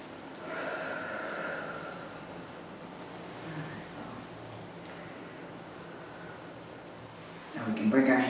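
Slow, soft breathing in and out during a qigong exercise, faint and airy over a quiet background, with a louder breath near the end.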